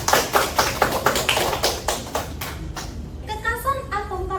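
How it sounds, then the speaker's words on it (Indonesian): Students in a classroom give a short round of rhythmic applause during a chemistry lesson. The clapping lasts about three seconds, then a voice starts talking. "Kita beri aplaus untuk kita."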